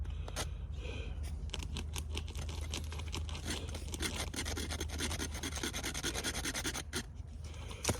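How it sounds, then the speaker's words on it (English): Small campfire sticks being cut with a hand saw, a steady run of rasping, scratchy strokes close by with a low background rumble and no talk. "It doesn't take much to saw these things."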